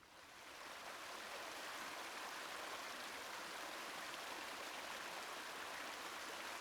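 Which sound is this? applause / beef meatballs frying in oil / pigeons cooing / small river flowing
small river flowing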